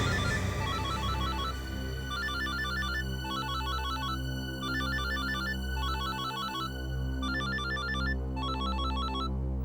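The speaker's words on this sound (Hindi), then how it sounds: "हाँ, उसी का फोन है।" A phone ringtone plays repeatedly, a bright electronic melody in regular bursts over a sustained musical backdrop, loud and close.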